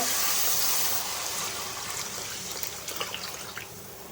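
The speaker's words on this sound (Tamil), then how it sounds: "இப்போ வந்து புளி தண்ணி ஊற்றிக்கலாங்க." Tamarind water pours steadily into a pot for fish curry with a soft, continuous splashing rush that thins to a gentle trickle, close by and fairly quiet.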